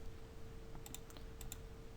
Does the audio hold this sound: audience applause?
no